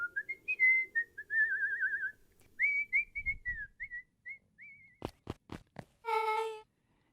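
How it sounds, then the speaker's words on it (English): A character in Beacon Pines whistles a bright, jaunty tune of wavering notes, close and clear against quiet, followed by a few sharp clicks and a short game chime. "With a shrug, he continued up the stairs, whistling a jaunty tune"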